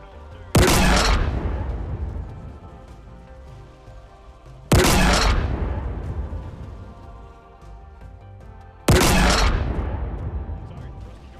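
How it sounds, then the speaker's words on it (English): A new gun in Halo Infinite fires three separate heavy booming shots, each followed by a long ringing decay, with about four seconds between shots. No one speaks. "Now here's what the gun really sounds like when you put all the audio pieces together"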